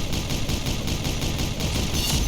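Gunfire in the mobile shooter Pixel Gun 3D battle royale, a shotgun early in the match, comes as a dense, continuous roar of overlapping blasts with no pauses.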